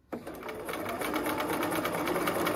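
A sewing machine starts almost at once and stitches fabric in a continuous fast mechanical whir with a rapid needle rhythm, close and steady throughout.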